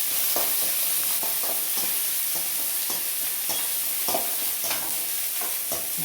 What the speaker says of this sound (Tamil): வெங்காயம் போட்டு வெங்காயம்